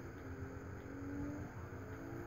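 A nearly 1,000-horsepower rally car engine hums under light throttle in a video game, a faint, steady drone with a mild rising tone.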